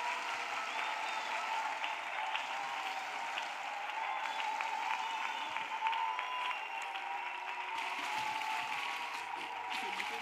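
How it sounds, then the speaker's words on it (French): A church congregation claps together for Jesus during a prayer and intercession service, producing steady, dense applause that carries on without a break for about ten seconds. "Let us clap for Jesus"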